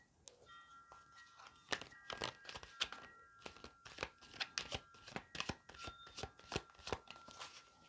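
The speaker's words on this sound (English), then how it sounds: "while I shuffle the cards" A deck of tarot cards being shuffled close up, a quick run of crisp riffling slaps and soft thuds, some faint chimes ringing behind.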